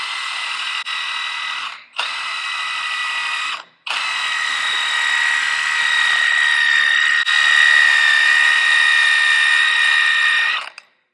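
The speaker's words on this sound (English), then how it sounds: "You clean off as much of the rust as you can with a wire wheel." A power-driven wire wheel scours rust off a steel tire rim, whirring loudly and close with a steady high whine, briefly stopping twice early on, then running continuously until it winds down near the end.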